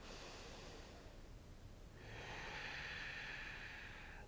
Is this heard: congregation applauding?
no